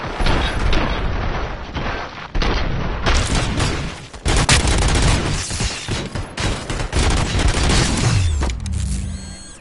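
Gunfire in RoboCop: Rogue City: dense, loud volleys of shots and automatic fire with booming impacts and mechanical clanks, nearly continuous before a short tail of lower rumble at the end.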